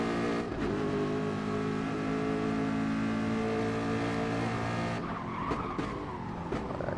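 A race car in Gran Turismo Sport brakes late into a corner, its tires letting out a long, steady screeching skid over engine drone, followed by a brief rougher patch as it settles, loud and close with no voices.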